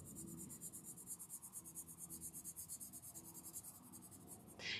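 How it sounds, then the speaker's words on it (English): Quiet, rhythmic scratching of a blue colored pencil rubbing back and forth on paper, close up, with a steady stroking pulse and no talking. "take a blue pencil and color in your C's blue"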